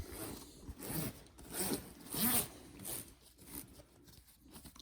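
A zipper slider is slid onto a Bimini top zipper, giving a series of soft, close, quiet raspy strokes in a short rhythmic run with no talk.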